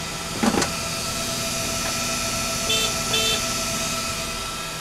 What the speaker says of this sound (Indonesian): kenapa klaksonnya kayak gitu bunyinya?